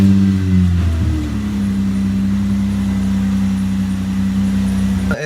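A 1999 Toyota Solara TRD with a new PCV valve fitted catches and settles into a steady, loud, low idle that runs evenly to the end, close up with nobody talking.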